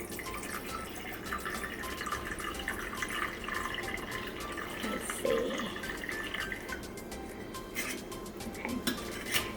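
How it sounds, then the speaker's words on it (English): Water runs from a tap into a pan holding a steamer basket, a steady splashing stream with occasional clinks of metal cookware, close and continuous, no talking. "So I'm going to put my little basket thing into the pan and just add enough water."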